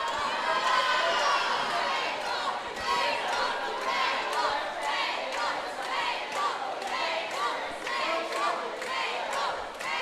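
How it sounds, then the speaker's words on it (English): A roller derby crowd at the 2025 World Cup, West Indies against Chinese Nations, chants together in a loud, rhythmic roar that fills the arena for the whole stretch. "it sounds like the crowd are chanting table"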